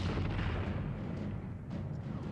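Artillery guns fire in a Napoleonic-era film battle scene at Waterloo: a dense, continuous low rumble of distant cannon and booms, loud and unbroken, with no clear voices.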